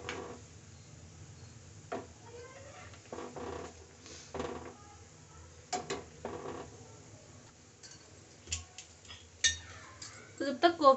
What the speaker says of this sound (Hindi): मैं इनको दोबारा से पलट देती हूँ।